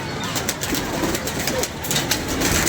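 Several pigeons coo softly in overlapping low, rolling calls, with a few wing flutters and faint background noise.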